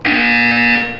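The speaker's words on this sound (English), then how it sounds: "You will hear a buzzer." Buzzer from the video game Portal 2, a single loud harsh electronic tone held steadily for about a second, alone and close.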